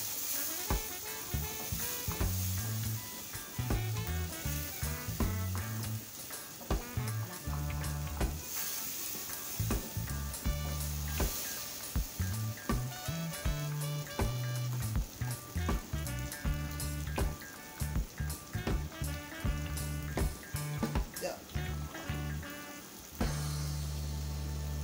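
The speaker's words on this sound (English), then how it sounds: "Just allow the prawns to continue cooking." Prawns fry in a hot pan with a loud, steady sizzle and crackle that runs almost unbroken, with occasional stirring scrapes and a brief dip near the end.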